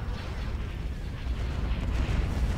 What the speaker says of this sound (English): Hypervelocity cannon fire.